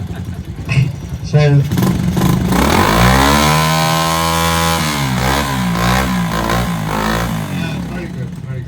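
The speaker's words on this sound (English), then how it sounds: "The little exhaust sound, they're very magic" A Honda motorcycle engine fires up and revs, its exhaust note rising and settling into a loud, steady drone, with people talking over it.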